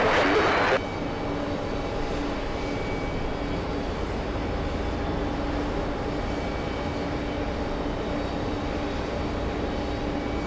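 Air Guyana airliner lining up on a runway at JFK, its engines giving a steady, sustained broadband roar throughout, moderately loud and constant, after a brief louder burst at the start.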